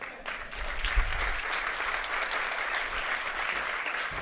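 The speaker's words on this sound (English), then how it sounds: "He needs about 10 seconds of very loud applause to get to the stage" Loud, sustained applause from a large keynote audience at a conference opening, a dense continuous clapping that swells early and holds steady throughout.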